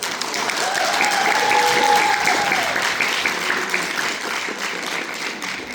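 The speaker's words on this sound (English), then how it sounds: "So it was an overall very successful season, so give them a round of applause" Audience applause for a high school concert band fills the space, a dense steady wash of clapping that swells and then tapers slightly, with faint crowd murmur underneath.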